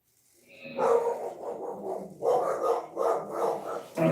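Several dogs bark inside a private house, a run of loud, close barks in two bursts, some overlapping and growly, with no talking.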